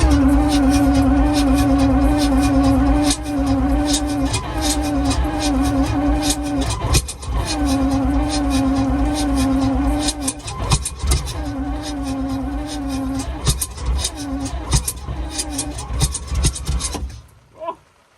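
An Alvis Stalwart engine, unstarted for 30 years, cranks and catches with a loud, rough, pulsing mechanical rumble that carries on continuously before cutting out abruptly near the end.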